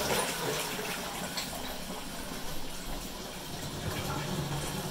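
Water pouring into a blocked toilet bowl to nearly the top, a steady close rushing and gushing with no speech over it.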